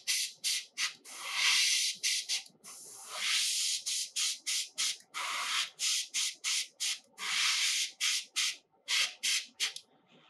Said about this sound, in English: gently applying thin layers of this color, and then using the airbrush as always to air dry each layer before building the next